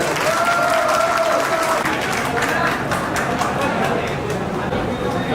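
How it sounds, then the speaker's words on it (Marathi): A crowd at a school batch get-together gives sustained loud applause for the teachers, dense clapping mixed with chatter and a few voices, continuous throughout. "जोरदार टाळ्या मॅडमांसाठी"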